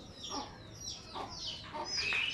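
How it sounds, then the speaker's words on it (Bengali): Several chickens kept in front of a village house cluck in short, repeated calls at a moderate distance, a few overlapping clucks rising and falling over quiet outdoor background. "এই যে কতগুলো মুরগি আছে"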